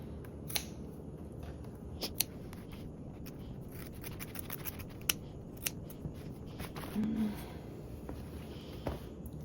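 Scissors cutting angled edges around a fabric sewing pattern near a D-ring tab, making a run of crisp, scattered snips and light scrapes at close range, with no one talking.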